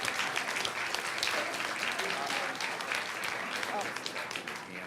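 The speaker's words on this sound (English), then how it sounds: "Let's give him a round of applause." A crowd at a school board meeting gives a round of applause for an honored teacher, a dense continuous clapping that gradually tapers, with some talk underneath.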